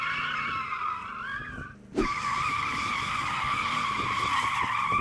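A performance car's tyres squeal loudly in a sustained skid during a drift attempt, with a brief dip before the screech resumes steady and strong, and no talking.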